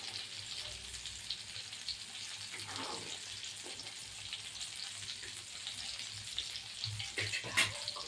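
Fish frying in a pan for a Tamil fish curry and fish fry gives a soft, steady sizzle. Faint stirring and scraping sounds rise briefly above it.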